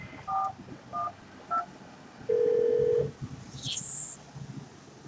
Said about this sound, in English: If you know the local number of the person you wish to reach, please dial it now.